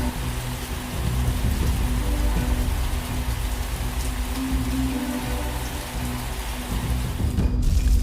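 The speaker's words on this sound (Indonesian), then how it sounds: "dari langit itu, hujan turun." Heavy rain pours down steadily, a dense, constant wash of drops close by, with a low rumble of thunder beneath it throughout.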